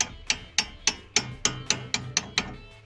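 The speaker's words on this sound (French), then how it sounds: "petit coup de marteau" A run of about ten light, sharp hammer taps on metal while fitting threaded coilover suspension to a Kawasaki Z motorcycle, evenly spaced and close by, each ringing briefly before the next.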